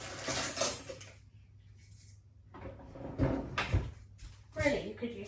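A large serving spoon clinking and scraping among dishes and cutlery in a kitchen, a few close clatters separated by quieter gaps, with a person talking around them.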